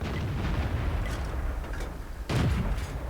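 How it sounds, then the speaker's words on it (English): Tank cannon fire in the World of Tanks video game, a single heavy boom landing late over a steady rumbling battle ambience of engines and distant noise. "So we're going to take a couple of shots here."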